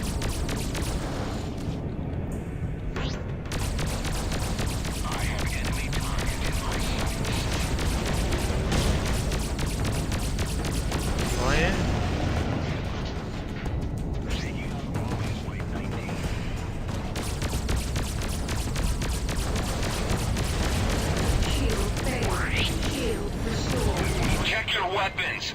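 Spaceship weapons firing in the space combat game Freelancer, a dense, continuous barrage of blasts and mechanical rumble that stays loud for the whole stretch, with a voice talking over it.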